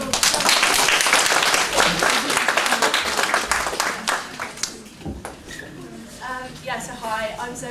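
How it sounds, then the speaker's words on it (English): An audience applauds a speaker at a Green Careers Week talk. Dense clapping fills the opening seconds, then thins and fades, and a voice begins talking as the applause dies out. "nice round of applause"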